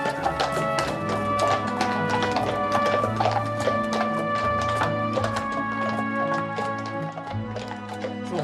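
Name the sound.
horse hooves clip-clopping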